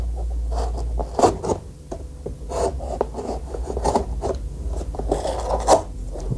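A V notch is cut into a piece of surf rod with short, irregular scraping and rasping strokes, close up and moderately loud, with no talk.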